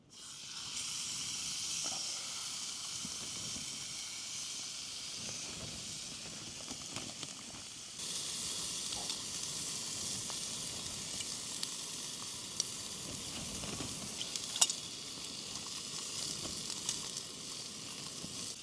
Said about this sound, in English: I'd usually do steak on a really high heat, but this titanium pan just, yeah, it heats up so fast